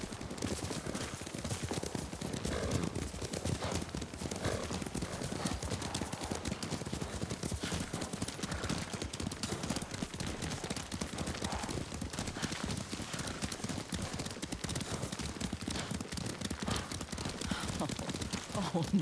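A horse gallops in Ghost of Tsushima, its hooves beating a steady, dense clip-clop on open ground the whole time, close and even, with a faint whinny.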